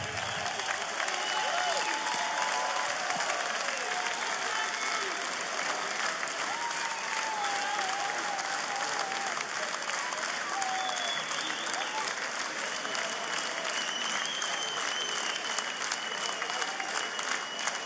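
Sustained audience applause at a 60th-birthday tribute event, a dense, even wash of clapping that runs unbroken from start to finish.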